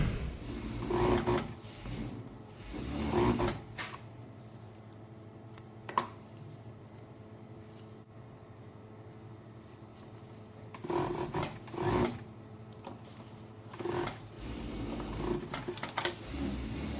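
A sewing machine stitches a shirt collar in several short bursts of rapid mechanical whirring, separated by quiet pauses and light handling clicks.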